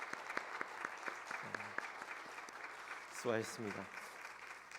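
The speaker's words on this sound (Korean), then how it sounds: "다시 한번 우리 호산나 찬양대에게 큰 박수" A church congregation applauding the Hosanna choir after a Sunday service hymn, a soft patter of clapping across the room with a voice speaking over it.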